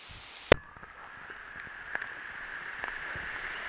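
Rain falls steadily outdoors, a soft continuous patter of drops hitting a surface with scattered closer drips and one sharp knock near the start.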